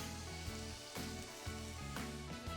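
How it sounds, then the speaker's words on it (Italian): Ingredients sizzle in a pan with a drizzle of oil while cavatelli with seafood is being prepared. A steady frying hiss runs throughout beneath tonal background music, and nobody speaks. "Li lascio sfrigolare, poi regolo di sale e faccio cuocere per circa 15 minuti."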